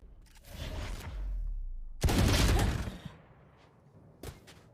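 Sheriff pistol gunshots ring out in a competitive shooter video game, in a few separate bursts: a long rumbling volley, then a sharper, louder cluster, then a single late crack, with quieter gaps between.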